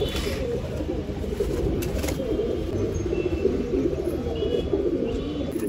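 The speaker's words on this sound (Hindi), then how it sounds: "नर कबूतर कैसे गुटरते, नर के ऐसे गुटरता है" Low, murmuring coos of a male pigeon repeat steadily at close range over a constant background hum, with no talking.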